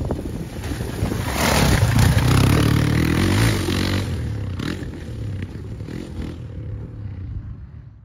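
A Kawasaki KLX 230R S trail motorcycle rides over rocky terrain, its engine droning under heavy wind buffeting on the microphone and scraping knocks, fading toward the end.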